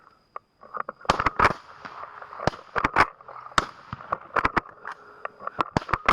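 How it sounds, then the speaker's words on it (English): Rifle shots crack out in quick irregular bursts, sharp and fairly close, against a quiet background with a faint steady hum. "Start shooting."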